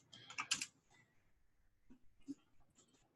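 Quiet clicking of computer keyboard keys in short bursts, a quick flurry at first then a few scattered taps, close and faint.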